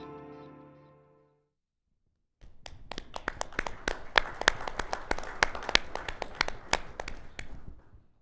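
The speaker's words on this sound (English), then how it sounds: "a big round of applause to Jake and Michael for the demo" After a brief musical tone and a short silence, a modest audience at a tech keynote claps after a product demo, with distinct individual hand claps that build into scattered, moderately loud applause before fading.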